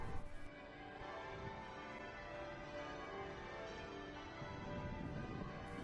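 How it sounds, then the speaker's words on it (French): Church bells peal continuously from the towers of Westminster Abbey in London in a dense, ringing wash, steady and fairly loud throughout, with overlapping tones blending together. "L'infernal et interminable carillonnage provient du sommet des tours de la célèbre abbaye de Westminster."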